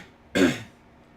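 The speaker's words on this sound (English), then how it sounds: "I might cough to clear my throat every once in a while" One short, rough throat clearing with a slight cough from a person who is a little sick, close and loud in an otherwise quiet room.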